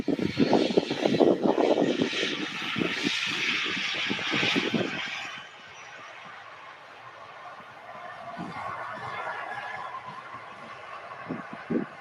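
A Ryanair aircraft rumbles on the ground at Manchester Airport, with a loud engine roar and rushing noise at first that fades to a quieter, steady distant drone with some intermittent knocks.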